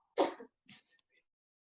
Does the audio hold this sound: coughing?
yes